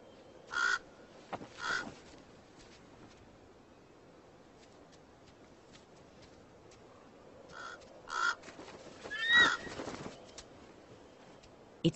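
A raven calls near a bald eagle, giving short harsh caws in two pairs, one early and one later, over a quiet outdoor background.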